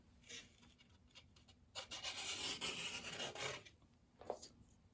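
An angled scraping piece dragged over a reinforcement ring to scrape off glue, giving short rasping strokes at first and then a longer, louder scrape, close up with no talk.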